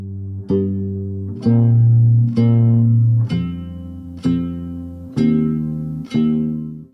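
A sampled guitar from a track, with lower frequencies cut and a processed, electronic tone, plays slow single notes, about seven evenly spaced plucks that ring out and fade between strikes.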